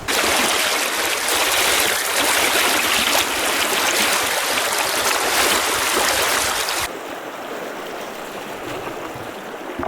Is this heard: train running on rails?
no